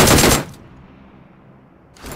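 Burst of rapid automatic gunfire from a first-person shooter video game, loud and dense for about half a second, then a quiet gap before another burst begins.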